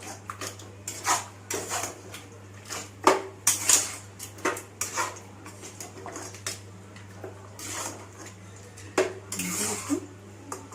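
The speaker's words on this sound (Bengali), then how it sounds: "মাংসটা দিয়ে ভালো করে মাংসটাকে কষাবো।" Marinated mutton for biryani being stirred in a pot, with repeated close metallic scrapes and clinks of a spoon against the pan and a soft sizzling hiss underneath.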